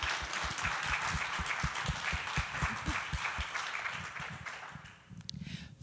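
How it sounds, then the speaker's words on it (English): A theater audience claps at a jazz and improvised music event, with steady moderate applause that fades toward the end to a few scattered claps, heard from some distance. "we can do an applause."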